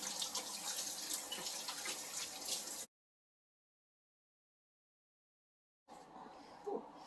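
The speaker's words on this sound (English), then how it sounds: "But just to be safe, I'm going to wash them again." Water running from a kitchen tap while hands are washed before making bannock bread, a steady faint splashing rush that cuts out for a few seconds and then resumes.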